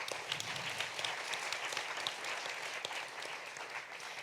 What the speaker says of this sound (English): Big applause for Simona as well.